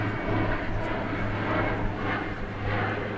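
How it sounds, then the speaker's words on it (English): A jet airliner going around at DFW Airport roars overhead with its gear down, a steady broad rumble that fills the whole stretch at moderate loudness, with no talking over it. "It looked like a Frontier plane going around."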